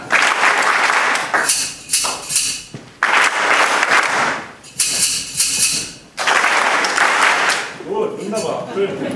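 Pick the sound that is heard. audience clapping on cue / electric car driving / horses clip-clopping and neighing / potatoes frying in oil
audience clapping on cue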